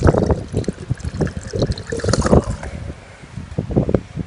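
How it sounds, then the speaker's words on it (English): A small unbranded eBay transfer pump, modified, moves water out of a 20-litre container, giving a steady gurgling trickle and splash with uneven pulses, close and fairly loud, no talk. "Pump this 20 litres out in about probably 5 minutes."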